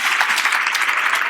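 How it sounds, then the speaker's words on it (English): A crowd applauds steadily, dense clapping from many hands filling the room at full volume throughout. "let's go ahead and give our panelists a big round of applause"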